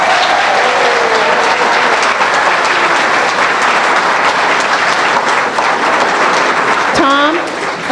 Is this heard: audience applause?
yes